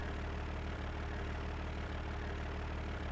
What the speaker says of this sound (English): I didn't give her a big enough tractor.